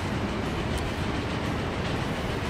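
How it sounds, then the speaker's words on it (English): A Thunder Bay to Chicago train in Transport Fever crosses nearby with a loud, dense, continuous rumble and rattle of wheels on track, with no voices. "we have one of the Thunder Bay to Chicago lines, or Thunder Bay to Chicago trains, just crossing over now"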